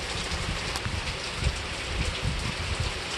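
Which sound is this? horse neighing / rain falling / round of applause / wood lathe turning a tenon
rain falling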